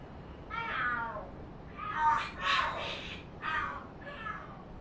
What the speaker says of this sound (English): The hell? Are there cats fighting?